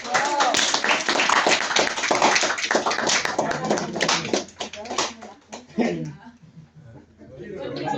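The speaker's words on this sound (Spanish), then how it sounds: "Un aplauso para González" A university law classroom breaks into applause for a student named González, a burst of clapping mixed with chatter and laughter that fades into talking voices.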